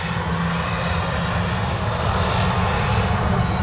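A Ryanair UK aircraft at Manchester Airport produces a continuous loud engine roar with a low rumble, steady and close for a few seconds.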